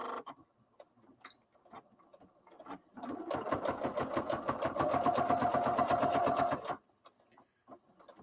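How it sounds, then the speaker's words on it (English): A sewing machine stitches a seam on a tabard, running in one steady rapid burst of about four seconds with a rhythmic mechanical chatter, up close, with quiet handling noises before and after. "I'm doing a back stitch at either end."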